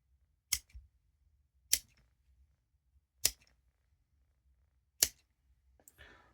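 Olight Otacle OKS2 multitool scissors snip through survival paracord in four sharp, quiet clicks spaced about a second apart, followed by a softer rustle of cord at the end.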